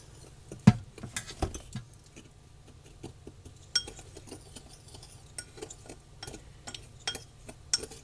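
A spoon scrapes and clinks against a bowl while garlic powder and spices are stirred together, soft irregular tapping and scraping with a few sharper clinks, close and quiet with no talking.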